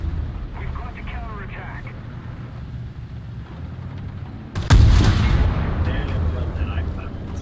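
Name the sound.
tank gunfire in video game War Thunder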